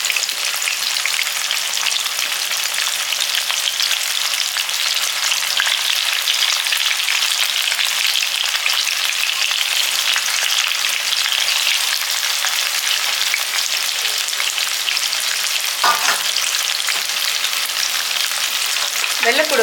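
Steady, loud sizzling of cut eggplant pieces frying in oil in a pan while cooking a Tamil-style side dish, continuous throughout with a brief stir or clatter near the end and no talking.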